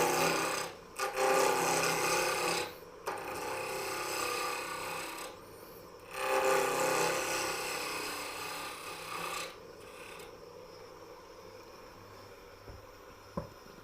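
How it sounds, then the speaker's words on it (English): A lathe tool cuts a tenon on a wooden workpiece in bursts of harsh, rasping scraping, several passes of a few seconds each with short gaps between them, close and moderately loud. "I'm going to start turning again and make a tenon on this"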